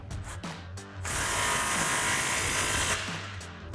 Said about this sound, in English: we're gonna grab our impact and 15mm socket, tighten down our back clamp.